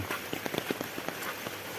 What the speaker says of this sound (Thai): ฝนก็ตกตั้งแต่ตีห้าละ